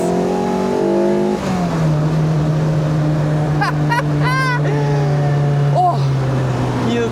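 Lotus Elise 340R engine downshifting, revs dropping then holding a steady loud drone from inside the car, with a person's voice whooping over it.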